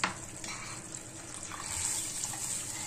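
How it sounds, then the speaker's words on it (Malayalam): Water poured into a pan of Kerala-style horse mackerel fish curry, a steady splashing, running pour that rises slightly toward the end, heard close and alone with no talk. "ഇനി നമുക്കിതിലേക്ക് ആവശ്യമുള്ള വെള്ളം കൊണ്ടൊഴിച്ചു കൊടുക്കാം."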